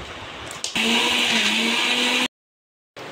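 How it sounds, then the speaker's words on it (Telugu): Mixer grinder grinding roasted flattened rice (atukulu) into a fine powder, starting with a click, then a loud steady whirring drone for about a second and a half before cutting to silence and briefly restarting. "మనం వేయించి పెట్టుకున్న అటుకులు మొత్తాన్ని ఇలా మెత్తగా గ్రైండ్ చేసుకోవాలి"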